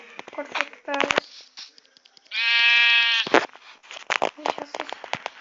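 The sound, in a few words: sheep bleating in Minecraft video game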